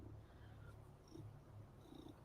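A kitten purrs softly and steadily at close range, a low continuous rumble running throughout with no talking over it.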